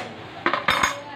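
Ground chili, onion and masala paste being mixed in a dish for chicken, heard as two quick clinks and scrapes of a utensil against the dish, close and brief against a steady background hum.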